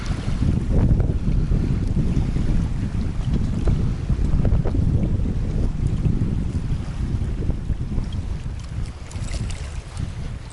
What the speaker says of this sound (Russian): ну ветер, конечно, страшный